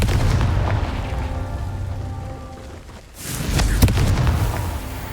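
A Confringo fire-blast spell in the fantasy game Hogwarts Legacy lands as a deep, rumbling booming burst after a brief lull, followed by crackling debris and a sharp crack, heard loud and close over steady rumbling ambience.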